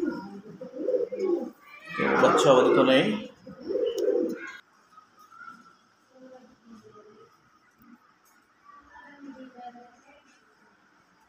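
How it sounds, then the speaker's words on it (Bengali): Dabla pigeons coo softly nearby in low, rounded calls, both before and after someone speaks briefly over them. "ডাবলা কবুতর"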